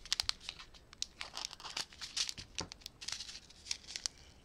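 Scissors slicing open plastic bags from diamond painting kits, with crisp crinkling and tearing rustles in quick irregular bursts, close and fairly quiet, with no talking.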